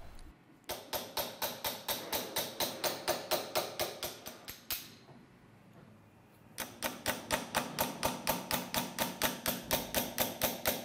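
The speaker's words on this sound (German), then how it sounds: "Damit und mit einem Stichel graviert sie die ersten Linien für die Umrandung aus Eichenlaub." A small hammer strikes a hand graver as it cuts an oak-leaf border into a hunting rifle held in a rotating vise: steady, rapid metallic taps at an even pace, a brief pause, then the tapping resumes, close and crisp.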